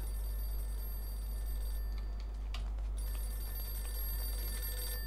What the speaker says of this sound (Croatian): sred noći zvoni telefon, nešto mora da bude.